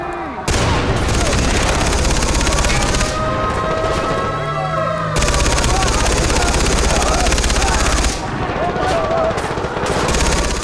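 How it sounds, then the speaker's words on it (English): Helicopter rotors thud beneath sustained machine-gun bursts and scattered gunfire in the video game Far Cry 3, loud and continuous, with short breaks in the firing. "Here come all the helicopters and things like that."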